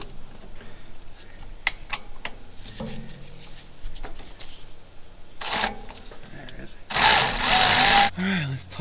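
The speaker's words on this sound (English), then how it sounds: "If we get the electric ratchet in there, make my life a whole lot easier." An electric ratchet tightens a bolt on an old car in a garage, first quiet clicks and handling noises, then a brief whir and a louder sustained buzzing burst near the end as a voice murmurs alongside.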